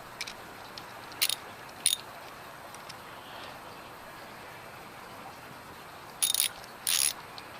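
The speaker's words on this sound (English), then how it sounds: "Tighten these down nice and snug." A ratchet wrench clicks in a few short bursts while tightening nuts on the mount of a Cobb SF intake, with quiet pauses between the bursts in a garage setting.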